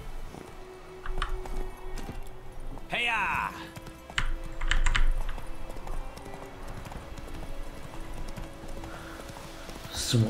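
Hooves of the horse Roach clip-clop in The Witcher 3: Wild Hunt, irregular steps under game music and ambience, with a horse snort and a few sharp clicks mixed in.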